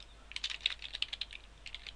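Code being typed on a computer keyboard, a quick run of close, crisp key clicks in uneven bursts with a short pause before a final flurry, quiet and alone.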